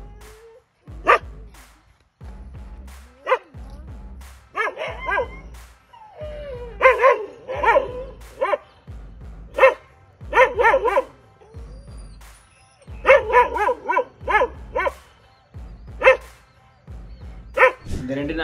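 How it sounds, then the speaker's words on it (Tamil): A Kanni breed guard dog barks in repeated loud, close bursts and short volleys, with whimpers and yips mixed between the barks. "மாறன்கிற அந்த டாக் வந்து நல்ல நெஞ்சிறக்கத்தோட கொடூரமான ஒரு காவல் குணத்தோடு கொண்ட நாய், நல்ல காவல் காக்கும்"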